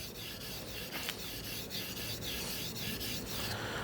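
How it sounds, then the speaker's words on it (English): A kitchen knife is drawn steadily along a whetstone, a continuous close rasping and rubbing scrape with faint repeated strokes, no voices. "you have to be really careful to sharpen the knife evenly"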